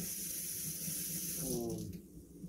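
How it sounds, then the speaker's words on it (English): Water runs from a kitchen sink faucet as something is rinsed beneath it, a soft continuous splash that fades out near the end. "Let me just go ahead and rinse real quick."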